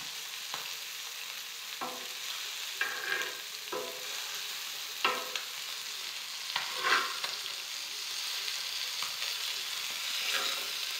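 Fresh puti fish frying in hot oil: a steady close sizzle with scattered louder crackles and spatters, plus occasional stirring or flipping clatter in the pan, no talking.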